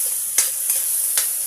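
Upo (bottle gourd) and kalabasa (squash) sizzle steadily in a pan, with three brief scraping stir strokes close up over the constant frying hiss.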